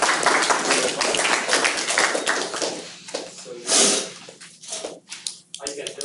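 Audience clapping at the end of a class project presentation, a dense patter of many hands filling the room, then thinning into scattered claps and a few voices.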